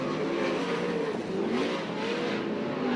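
USAC/CRA sprint cars race out of turn four at Alger, Washington, their engines a continuous loud, close roar with slight swells as they accelerate, and no voices.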